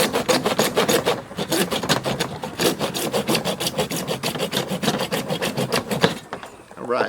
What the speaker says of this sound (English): you're going to cut it just like you were cutting wood or anything else with a handsaw